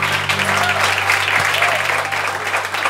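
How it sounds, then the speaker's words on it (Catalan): An audience applauds steadily in a hall, dense sustained clapping at an even, loud level throughout, with a low hum in the background. "Un aplaudiment per Ganivets Pallarès."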